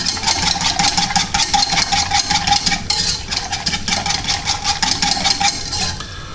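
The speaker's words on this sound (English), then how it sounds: "Just whisk that in." A small whisk beats Texas barbecue rib and steak rub into a mixture, a quick, steady rhythmic clatter of wire against a bowl, close and continuous, with no talk.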